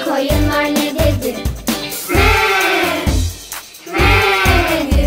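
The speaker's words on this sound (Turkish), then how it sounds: "Koyunlar ne dedi?" Sheep bleat in a Turkish children's nursery song, several wavering bleats rising over cheerful music, with singing voices between them.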